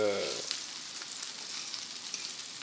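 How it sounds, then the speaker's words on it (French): Steady crackling sizzle of a small beef patty frying in a hot pan, continuous and close, with no talking. "va falloir cuire l'intérieur du steak, là c'est juste le dessus qui est cuit."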